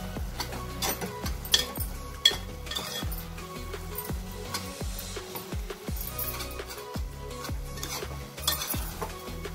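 A spoon stirs vegetable Maggi noodles with masala in a pan. It makes repeated clinking taps and scrapes against the metal over a faint sizzle, close and fairly quiet, with no talk.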